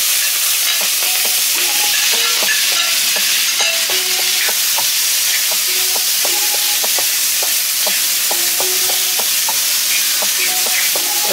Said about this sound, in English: Just gonna make it saute a little.